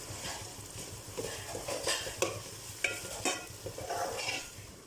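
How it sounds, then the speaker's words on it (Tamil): Ginger garlic paste sautés for beef biryani in a pan, a steady sizzle of frying with repeated spoon scrapes and clinks against the metal as it is stirred, close and without talk. "ஜிஞ்சர் கார்லிக் பேஸ்ட் நல்லா ரா ஸ்மெல் போகிற அளவுக்கு வதங்கட்டும்"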